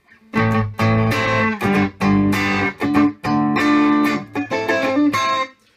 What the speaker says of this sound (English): It's just a little beefier, and it's got a little more overdrive sound.